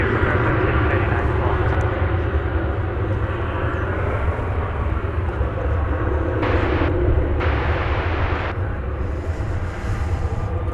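Boeing 737-9 jet without winglets at DFW Airport, a loud continuous engine rumble and roar filling the whole span, with brief bursts of hiss and faint speech underneath.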